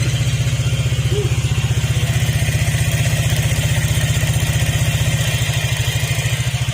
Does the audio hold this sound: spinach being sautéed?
no